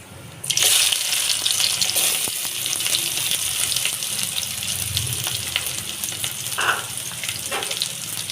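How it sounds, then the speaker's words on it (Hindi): Sliced onions fry in hot oil with cumin over a high flame, a loud continuous sizzle opening with a sudden burst as they hit the pan, plus occasional stirring clatter, close up without talk. "हाई फ्लेम रे हमें पियाज को गोल्डन ब्राउन होती भाजवा"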